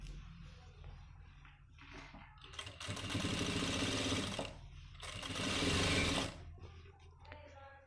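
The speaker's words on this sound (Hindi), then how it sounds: "इस जगह पर बिल्कुल किनारी की सिलाई मारेंगे" Sewing machine stitching along the edge of a men's pant front pocket, quiet and close, with two sustained whirring runs separated by pauses and soft handling noises.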